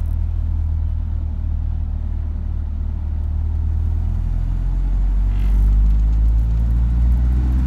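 A Mercedes-Benz 190SL engine pulls steadily in third gear at low road speed, a continuous deep rumble and drone that swells slightly as it gains speed, heard from inside the car without talk.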